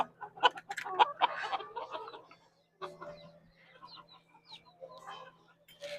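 Chickens at feeding time in a backyard flock, with bursts of clucking and squawks up close, busier at the start, then a short pause before softer scattered clucks resume over a faint steady hum.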